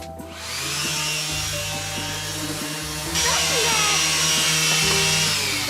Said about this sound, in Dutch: Nou, ga ik schuren.